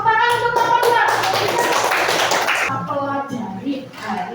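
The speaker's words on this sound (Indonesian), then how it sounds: "Tepuk tangan untuk teman-teman." Classroom clapping from a group of students in Indonesia, a dense burst of many hands that fills the middle of the clip, fairly close and loud, with a teacher's voice speaking before and after it.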